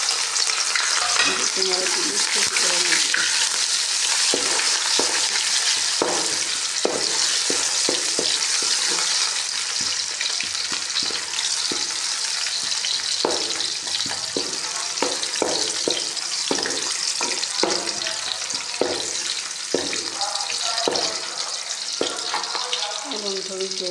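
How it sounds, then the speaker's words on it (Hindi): Onions fry in hot ghee in a pan, giving a steady, loud sizzle throughout with intermittent stirring clatter, while someone says a brief word. "अब मैंने घी ऊपर रख दिया था गर्म होने के लिए। अब मैं इसमें डालूँगी प्याज,"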